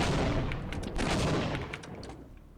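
Bomb blasts in a retro platformer video game, a dense, continuous barrage of loud booming explosions rolling together and gradually fading toward the end, with no talk over them.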